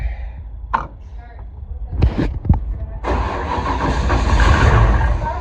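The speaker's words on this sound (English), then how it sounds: "So now I've got a new coil hooked up to the distributor. We're gonna see if it'll start." A car engine, fitted with a new distributor coil, cranks with a few short bursts and then catches at about three seconds, settling into a loud, steady running roar close by.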